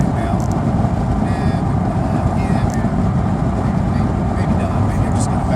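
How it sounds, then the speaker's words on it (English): A car drives along a road while trying to pass another vehicle, heard from inside as a loud, steady low engine and road rumble that continues without a break. "I'm going to try to pass this car right now."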